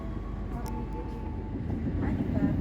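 A GBMS (Gaya Baru Malam Selatan) passenger train runs through Cirebon Kejaksan station at night without stopping, a steady low rumble of wheels and carriages that builds slightly toward the end.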